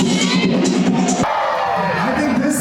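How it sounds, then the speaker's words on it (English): A packed crowd on the Royal Promenade of the cruise ship Liberty of the Seas cheers and whoops ahead of a balloon drop, with loud massed voices and babble, close and continuous, and a sharp break partway through. "It's a sea of crowd here."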